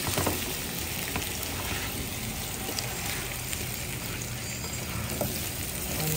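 Potatoes fry and sizzle in a pan for a beef pâté stew, a steady dense crackling hiss up close and alone.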